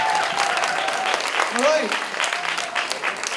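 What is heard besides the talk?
audience applause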